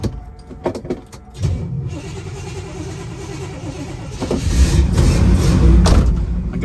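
A 1969 Chevrolet Camaro L65 being started: door and key thumps, then the starter cranking before the V8 catches and settles into a loud, steady rumbling idle close by.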